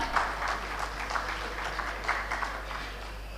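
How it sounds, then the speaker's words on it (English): A seated audience applauds steadily at a conference event, a continuous wash of clapping held at moderate level for a few seconds with no voices over it. "Can we please have a big round of applause, everyone?"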